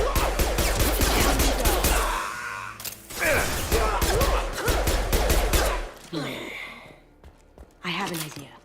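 Rapid gunfire bursts from a firefight in Mass Effect 2, played on Insanity difficulty on PC, crackling loudly in repeated volleys with short gaps, mixed with game voices and effects before fading into quieter moments.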